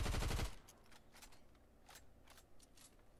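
Cover Fire SMG in the Fortnite video game fires one short rapid automatic burst, loud and close. Quieter clicks and movement sounds follow in the game.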